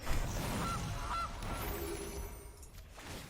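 Goose honking as a digital card-game sound effect in MTG Arena, a couple of short nasal honks over a dense electronic backdrop, moderately loud and with no talk.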